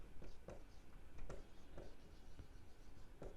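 A pen writes a balance sheet heading by hand, soft faint scratching strokes in quick irregular bursts, close and quiet with no talking.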